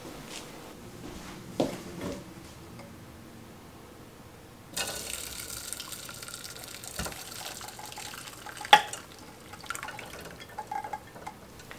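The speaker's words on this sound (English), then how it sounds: "Now that the elderberry mixture is strained off" Simmered, reduced elderberry mixture is strained, with quiet intermittent pouring and trickling that swells into a steadier flow of liquid, plus occasional clinks of utensils, close and soft, without speech.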